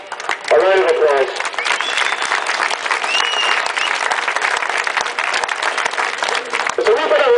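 Dense crowd applause at an outdoor anti-internment rally in Belfast, steady and close for several seconds, with scattered voices calling out at the start and end.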